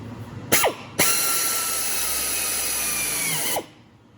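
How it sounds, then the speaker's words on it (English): A pneumatic drill bores through thin metal into a 2x4 on a table: two brief bursts, then a loud, steady high-pitched whine running about two and a half seconds before it abruptly winds down, close up and alone. "when I'm ready to drill, I'm going to drill through and pull back out."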